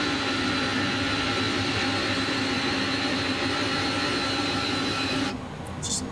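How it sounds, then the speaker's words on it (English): Airbus A300 jet engines run in Microsoft Flight Simulator, a loud, steady roar and whine that holds evenly before dropping in level near the end, with a faint high tone creeping in. "listen to these engine sounds"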